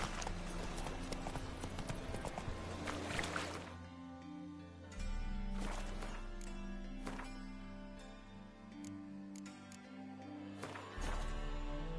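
Roach the horse galloping in a video game, a continuous rhythmic clip-clop of hooves at low level, layered over steady background game music with shifting tones.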